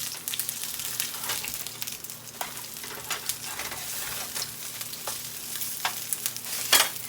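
Instant potato cake patties fry in a pan with a continuous crackling sizzle, scattered pops and spatters, and one sharper spatter near the end.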